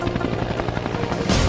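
An army helicopter performs a running landing, its rotor giving a loud, close, rapid chopping beat over a deep engine drone that swells slightly near the end.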